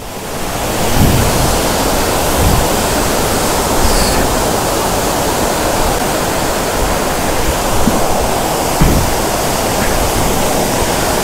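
Tirathgarh waterfall roaring steadily with dense, loud rushing water that barely changes in level throughout, with no voices.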